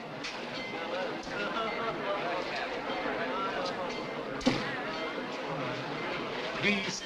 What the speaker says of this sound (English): Train leaving, if you please.